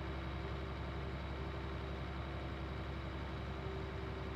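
A tractor engine runs in Farm Simulator 19, giving a steady, even drone with a constant low hum that holds without change for the whole stretch, with no voices over it.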